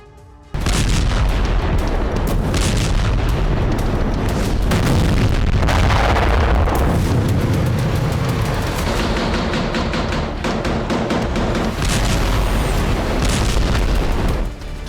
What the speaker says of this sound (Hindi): थमने नहीं वाली है ये गोलाबारी।